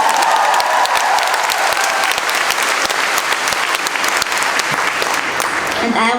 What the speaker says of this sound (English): Welcome, round of applause!